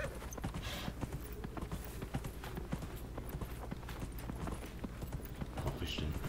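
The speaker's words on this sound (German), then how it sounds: "So, Pferdchen." Horse hooves clip-clop in a quick, steady trot in the video game Dragon Age Inquisition, a close and continuous run of sharp hoof strikes.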